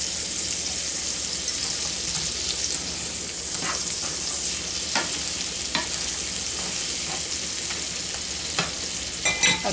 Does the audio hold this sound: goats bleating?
no